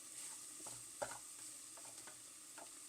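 Meat and onions cooking in a pan without oil, a faint steady sizzle with a few soft stirring scrapes and a small clack near the middle, close and quiet.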